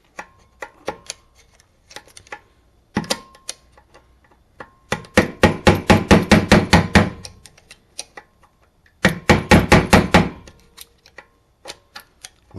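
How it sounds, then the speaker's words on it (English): A hammer strikes a C-clip on a Predator 212 engine, bursts of sharp metallic blows fired in rapid runs, with scattered single taps between the louder flurries. "I'm just gonna hammer the shit out of it till it spreads open."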